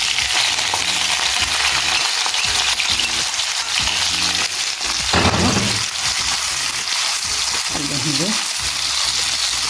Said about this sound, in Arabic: دوك نروح نقلي البصل ونوريكم